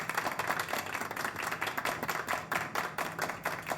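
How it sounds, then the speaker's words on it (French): Audience clapping for performing artists at a music show, a dense steady wash of many hands applauding, fairly close and even in loudness throughout. "On applaudit bien fort les artistes."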